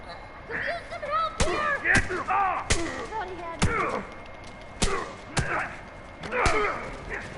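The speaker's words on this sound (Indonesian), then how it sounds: "Kencang amat itu tembakan ya" Sharp, sudden gunshots crack out at irregular intervals, about eight in all, over a busy backdrop of game sound effects and chatter in The Last of Us Remastered.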